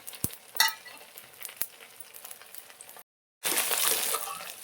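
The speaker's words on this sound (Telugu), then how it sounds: "నూనె వేడైంది, జీలకర్ర వేసుకోవాలి. మెంతులు, కొంచెం మినపప్పు, కొద్దిగా ధనియాలు." Cumin, fenugreek, urad dal and coriander seeds crackle and sizzle in hot oil for gongura pickle, with sharp pops at first, then after a brief silence a louder, dense, steady frying hiss close by.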